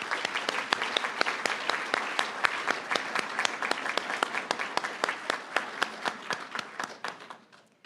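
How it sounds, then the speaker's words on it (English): Applause from the audience at a nursing college graduation ceremony, starting full and dense, then thinning into a slower run of distinct claps that fades away as the clapping ends. "Let's give Doris another round of applause"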